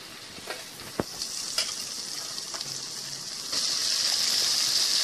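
Masala frying in oil for brinjal fry makes a steady sizzle with occasional sharp clicks and stirring taps. The sizzle swells louder and brighter toward the end. It is close by, with no speech.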